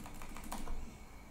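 Soft, quick keystrokes on a computer keyboard while typing code, a brief run of light close clicks over a low steady room hum.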